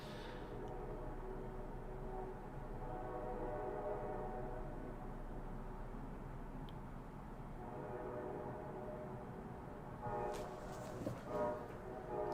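A distant train rumbles steadily through a town at night, a low continuous roll heard far off through trees and buildings, with a brief louder burst near the end.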